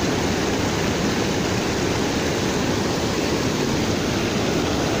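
Sobel Falls in Canada pours in a steady, loud broadband roar of rushing water, heard from right in the middle of the waterfall, constant and unbroken throughout with no voices.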